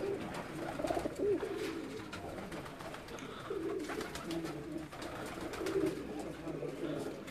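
Teddy pigeons cooing at a home loft, several soft low coos scattered across a background of steady ambient noise, fairly faint and partly under a distant voice.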